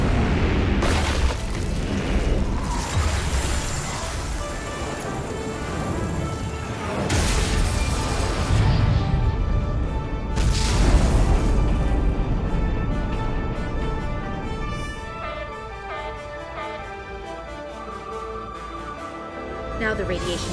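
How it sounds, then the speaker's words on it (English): Deep booming explosions from a starship weapon salvo in the video game Star Trek: Resurgence roll through a dense, loud mix, with two heavier bursts standing out amid continuous voices and background score. "Fire salvo!"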